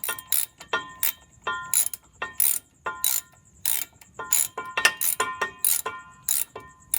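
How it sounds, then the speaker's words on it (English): A hand ratchet wrench works loose the driveshaft bolts on a 5.3 LS-swapped Chevrolet El Camino, giving close, crisp bursts of rapid clicking in short repeated strokes separated by brief pauses. "Yeah, I'm old school. I got ratchet."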